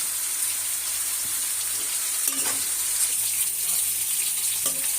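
Chopped onion and garlic fry in hot oil for a fish curry with papaya and potato, making a steady bright hiss close by, with a couple of faint stirring clicks.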